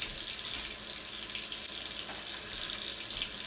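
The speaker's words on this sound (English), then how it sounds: "But I get my water going." Hot water runs steadily from a kitchen sink faucet, a continuous hissing gush at close range with no voices.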